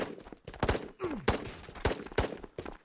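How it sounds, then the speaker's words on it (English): Gunfire in the Ghosts of Tabor VR shooter: a string of sharp, loud individual shots at irregular intervals, about eight reports in quick succession, with no talking. "Oh, I've just been shot."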